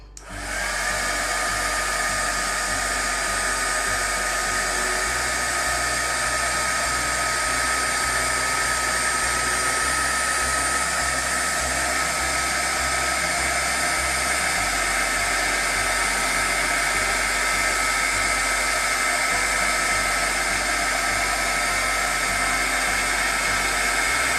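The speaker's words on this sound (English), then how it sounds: "It might get a little loud with my heat gun on though." Loud, steady whooshing roar of a heat gun blowing hot air for heat embossing, running continuously with a constant high-pitched whine.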